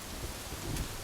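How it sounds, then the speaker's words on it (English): Steady rain hisses down during a thunderstorm in the video game Rising World, with a low thunder rumble beneath the constant downpour and no talk. "A little thunderstorm going on."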